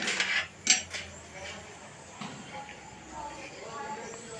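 A metal spoon stirs milk and sugar in a pan for kulfi over a low gas flame, with a few clinks at the start and then faint scraping. A voice talks over it.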